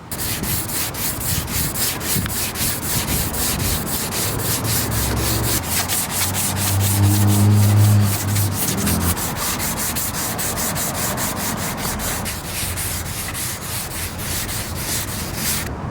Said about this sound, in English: I'm gonna go ahead and block sand that area with 180 grit.